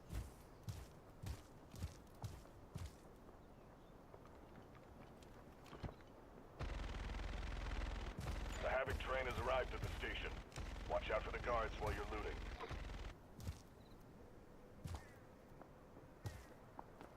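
Gunfire from enemy machine gunners in the video game Delta Force rattles in a loud, dense stretch in the middle, framed by scattered sharper shots and footsteps before and after.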